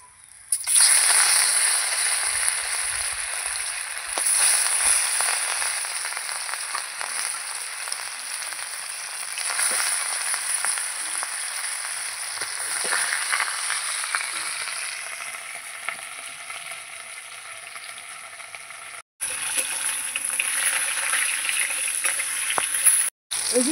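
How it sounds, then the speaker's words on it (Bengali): Fish sizzles in hot oil in a pan, a steady loud frying hiss and crackle that continues throughout with a brief break near the end, no talking. "এবার আমি বাদ বাকি মাছগুলো ভেজে নেব"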